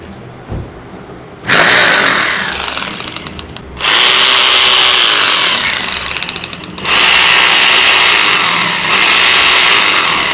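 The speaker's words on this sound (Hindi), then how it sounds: "आप देख रहे हैं मशीन की, इस ड्रिल मशीन की साउंड चेंज हो गई है।" A repaired electric drill machine runs loud and close, whining up in several bursts that start abruptly, rev high, and drop back between runs, with no talking over it.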